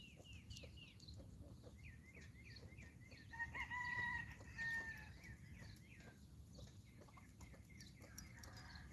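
A hen and rooster outdoors on a farm sanctuary during a mating display, with soft repeated clucks and a few brief crowing-like calls over faint background ambience, no speech.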